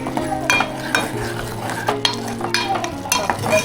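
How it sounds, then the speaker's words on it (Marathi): Tomatoes cooking in a pan while being stirred, a constant close sizzle with regular clinks and scrapes of the utensil roughly every half second, loud and without voices. "त्याच्यामध्ये आपण आता हे थोडंसं टमाटे टाकून घेऊया दोन्ही हे असं शिजून घेऊया"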